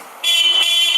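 A motorcycle horn being tested during bike service sounds as one sharp, steady electric honk, loud and close, starting abruptly and holding for most of a second.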